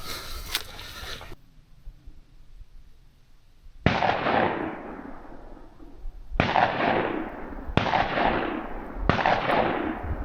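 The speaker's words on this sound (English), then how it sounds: "There's obviously a shooting range in the back." Four sharp gunshots from a shooting range crack out one after another, each followed by a long rolling echo across open ground near fishing ponds, sounding moderately distant.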